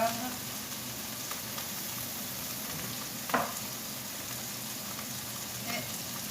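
Pork roast searing in a hot pan, giving a steady soft sizzle with one sharper spatter as the meat is turned, no talk over it.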